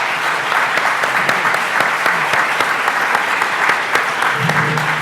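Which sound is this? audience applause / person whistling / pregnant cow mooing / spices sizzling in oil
audience applause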